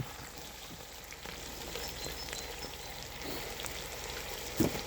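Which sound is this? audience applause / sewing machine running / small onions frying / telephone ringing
small onions frying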